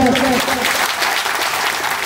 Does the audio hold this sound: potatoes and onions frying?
no